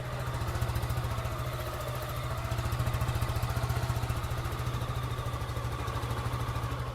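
A 2024 Suzuki Gixxer SF 150 motorcycle idles steadily nearby, its exhaust giving a low, even, rapid putter that holds unchanged throughout.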